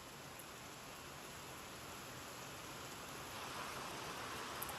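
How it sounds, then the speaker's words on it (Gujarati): Heavy rain pours steadily outside at evening time, a dense, even hiss that swells slightly toward the end, with no distinct thunder clap standing out. "જોવો ફૂલ વરસાદ ચાલુ છે ગાજવીજ સાથે"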